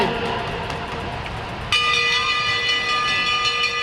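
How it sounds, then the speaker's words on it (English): A lap bell rings at a race, starting suddenly partway through as a loud, sustained metallic tone with long ringing overtones over crowd noise. "Bell on the next lap"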